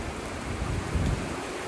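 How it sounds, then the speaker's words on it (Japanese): Heavy rain pours down in a dense, steady hiss with low rumbling undertones, loud and continuous with no voices. "こんな雨は今年初めてです。"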